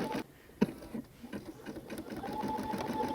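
A Brother SE725 embroidery sewing machine runs with a rapid, steady stitching patter and mechanical hum, quietly and continuously with a few sharper clicks.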